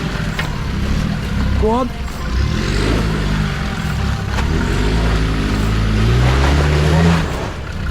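A 4x4 off-road vehicle crawls over rocks while green laning on Pig Lane in North Wales, its engine a steady low drone that swells as it climbs, with people calling out directions over it.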